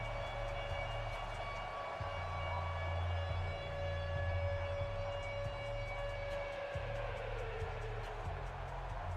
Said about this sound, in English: The storm sirens are going off.